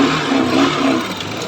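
A Honda Shine motorcycle engine revs loudly up close in one steady, sustained burst with no talking over it.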